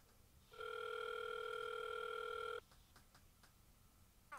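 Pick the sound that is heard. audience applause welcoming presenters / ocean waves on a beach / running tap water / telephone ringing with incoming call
telephone ringing with incoming call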